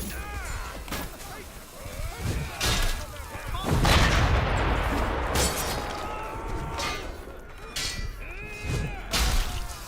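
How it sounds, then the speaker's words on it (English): A catapult strike lands in the medieval combat game Chivalry 2, a loud boom near the four-second mark amid scattered thuds and clashing battle noise, with voices talking over the fighting. "now a catapult which should hit the objective gets me"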